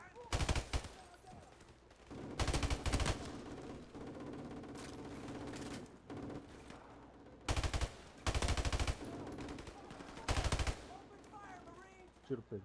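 Rapid automatic gunfire in the video game Call of Duty: Modern Warfare Remastered, several loud bursts of shots between quieter stretches of game sound, with a faint voice talking at times.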